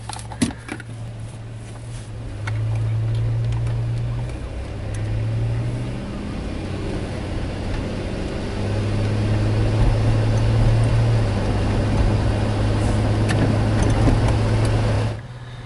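A Suzuki Grand Vitara with a no-drive-cycle, no-codes fault cruises down the road, its engine and road noise forming a steady low drone with humming tones that rise and fall, heard from inside the cabin without talk.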